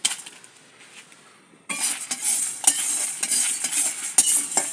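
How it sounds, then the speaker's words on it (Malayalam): Toor dal, cumin and dried chillies dry-roasting in a pan for a coarse chutney powder, with faint scraping at first, then loud steady rustling and gritty stirring of the dry grains and spatula clinks close by. "ഇനി ഇതിലോട്ട് നമ്മുടെ മുളക് ഇട്ട് കൊടുക്കാം"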